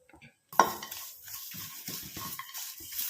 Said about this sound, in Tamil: இப்போ இது 2யும் நல்லா நம்ம ஃப்ரை பண்ண போகிறோம்.